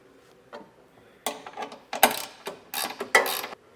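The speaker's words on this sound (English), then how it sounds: "having that ratcheting wrench, it's just going to make it a lot easier. So I'm just going to go through, get all 4 of our bolts snugged down" A ratcheting wrench snugs down trailer hitch bolts during a Blue Ox Class III hitch install on a 2019 Toyota, giving bursts of quick metallic clicking, several short runs of ratchet strokes close to the microphone, with no talking.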